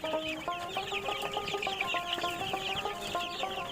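Several Tiger chickens cluck in quick, repeated bursts nearby on a farm, a busy chatter of hens with no talking.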